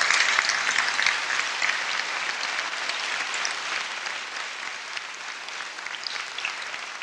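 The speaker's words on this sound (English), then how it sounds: "Let's give them another round of applause" A large meeting crowd in Los Angeles gives another round of applause, a thick, even wash of clapping that holds steady for several seconds and fades slightly toward the end.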